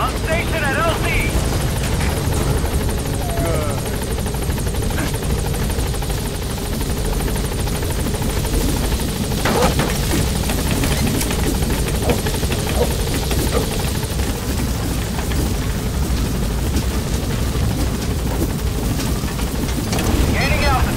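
A support helicopter arriving in Metal Gear Solid V, a loud, constant rotor drone with a heavy low rumble throughout, while a voice speaks over it.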